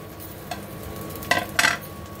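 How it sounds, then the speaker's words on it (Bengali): A plate is picked up in a kitchen, giving a few sharp clinks and clatters of dishes, two louder knocks close together, against a steady low background hum. "একটা প্লেট নিয়ে নিচ্ছি।"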